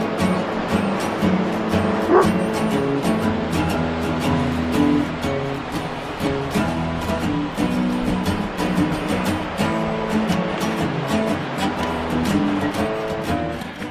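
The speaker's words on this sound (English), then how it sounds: "someone's got their doggy here" A dog barks in short bursts on a rocky ocean shore at Montauk, Long Island, under steady surf and wind, with faint distant voices in the background.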